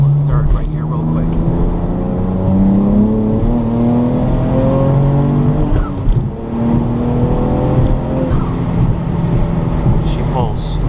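BMW 335i with new NGK plugs revving hard while accelerating in third gear, a loud close engine note climbing repeatedly in pitch, with someone talking over it.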